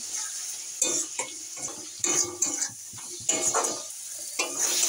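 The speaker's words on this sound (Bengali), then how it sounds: "মশলাটা ভালো করে কষিয়ে নেবো" Spice paste of turmeric, cumin, coriander and chilli powders with a little water is stir-fried in a pan for a fish curry, with repeated scraping strokes of a spatula over a soft sizzle.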